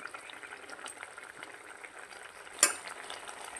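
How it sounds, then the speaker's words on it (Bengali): Fish curry gravy made with bata fish, potato and eggplant simmers in a pot, giving a soft, continuous bubbling and sizzling with one brief sharp click near the end. "এবার দেখুন ঝোলটা ফুটে উঠেছে।"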